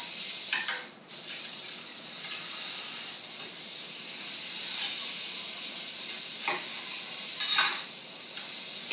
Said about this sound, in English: I'll use the drippings to saute the mirepoix, the flavor builder, onions, celery, and carrots.